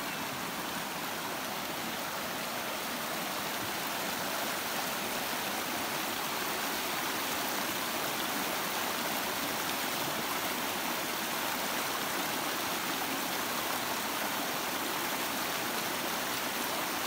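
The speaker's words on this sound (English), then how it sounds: "Nice little river crossing here." A river runs over rocks at a trail crossing on the Appalachian Trail in Vermont, a steady, close, broadband rush of flowing water with no breaks and no voices.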